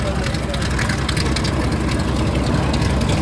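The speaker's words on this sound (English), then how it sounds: "that big hulking Grumman Avenger taxiing" A big Grumman Avenger aircraft taxis at the Mudgee airshow, its engine a loud, steady, rough rumble that fills the scene while an announcer talks over it.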